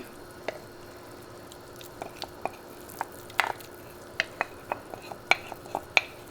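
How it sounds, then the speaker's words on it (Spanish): Oaxacan mole paste is stirred into a pot of boiling liquid, a quiet spoon scraping and tapping in scattered soft clicks over faint bubbling. "Y aquí lo vamos a estar revolviendo constantemente hasta que se deshaga el mole."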